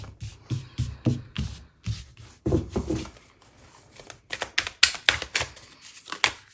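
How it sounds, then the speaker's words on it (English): Tarot cards riffled and shuffled up close, a run of quick papery flutters and taps, pausing briefly before a louder burst of rapid shuffling. "going to shuffle one more time"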